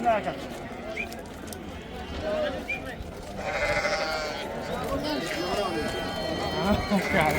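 Sheep and goats, including nannies with kids, bleating at the Qiziriq livestock market, several calls near and far over a busy crowd murmur, with people talking and hooves shuffling.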